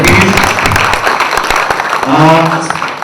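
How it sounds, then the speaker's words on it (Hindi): Audience applause at a Bhojpuri film trailer launch event, a dense burst of clapping from a crowd that carries on throughout, mixed with a host's voice speaking over it. "जरा मधु जी के लिए जोरदार ताली बजाइए प्लीज।"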